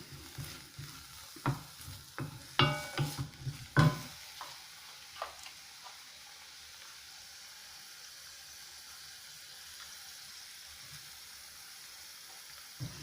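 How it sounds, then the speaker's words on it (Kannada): Onions hit hot oil in a pan, giving a burst of sizzling and stirring clatter at the start that settles into a faint, steady fry, with no voices. "ಎಣ್ಣೆ ಬಿಸಿ ಆದಮೇಲೆ ಈರುಳ್ಳಿ ಹಾಕಿದ್ದೀನಿ."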